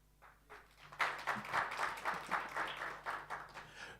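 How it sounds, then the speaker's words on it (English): Applause rises at a magistrates' and judges' association anniversary event: after a quiet moment, a roomful of people clap steadily and evenly for a few seconds at moderate distance. "Please keep that round of applause for the Vice President of the Association"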